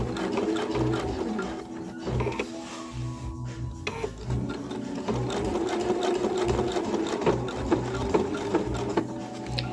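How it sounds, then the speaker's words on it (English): Sewing machine stitching a box pattern to attach a tri-glide on dog collar webbing, a close, fast mechanical chatter with rhythmic needle ticks that pauses briefly and then resumes steadily. "This is just putting on the tri-glide. And I'm doing a box stitch."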